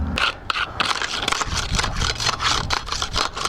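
Close, loud scraping and crunching as big chunks of burnt-on residue are knocked off Pit Boss Pro 1100 pellet grill parts, in repeated rough strokes that run steadily without pause.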